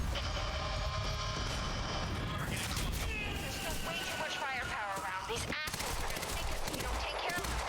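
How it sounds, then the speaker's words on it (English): In the Quantum Break video game, an assault rifle or tactical SMG fires sustained bursts alongside booming impacts and mechanical clatter, all dense and loud throughout. "this assault rifle or tactical SMG, not the best thing"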